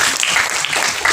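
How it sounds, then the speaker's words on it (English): Audience applause at a stand-up comedy show, a dense, continuous wash of clapping from a crowd, loud and close, with no voices over it. "And I think that deserves a round of applause."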